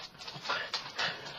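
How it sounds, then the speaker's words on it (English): A pet dog named Barkley whimpers and pants in short, close bursts, whining to be let outside, with soft breathy gaps between the cries. "That's my dog. I think he wants outside."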